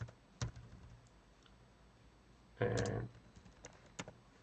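A few scattered keystrokes on a computer keyboard, quiet and close, with one short, dense flurry of typing in the middle and occasional single clicks around it.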